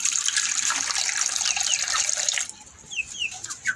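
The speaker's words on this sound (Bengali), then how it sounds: "পানি দিই" Water pouring from a tap or vessel into chicken feed, a steady bright stream that stops midway, followed by faint chirps of chickens nearby.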